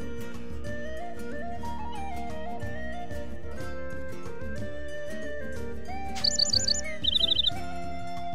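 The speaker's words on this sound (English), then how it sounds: "Looks like a baby bird." A baby bird in Shining Resonance Refrain chirps in two short, bright bursts of rapid repeated tweets near the end, over steady game music.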